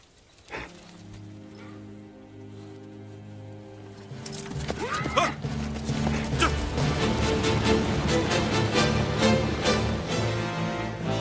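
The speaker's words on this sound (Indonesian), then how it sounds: "Mereka juga harus melepaskan kuda yang lambat dan hanya membawa kuda yang cepat agar tidak ada hambatan." Horses neigh and whinny with hooves clip-clopping, starting with a lone sharp sound and sparse noise, then growing into a dense, busy stretch of shrill calls and hoof clatter.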